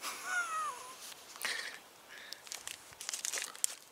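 A granola bar wrapper crinkles and crackles in short bursts outdoors in quiet spring woods during a turkey hunt, with a distant bird call at the start.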